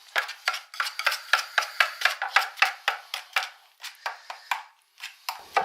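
Tile mortar stirred in a bucket for a bathroom remodel: a quick, regular run of scraping, slapping strokes, close and fairly loud, with no voices.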